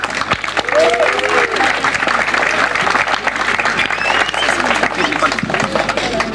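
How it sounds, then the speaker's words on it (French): A crowd applauds steadily and loudly, a dense patter of clapping that carries on without pause, with a few voices audible underneath. "On peut les applaudir"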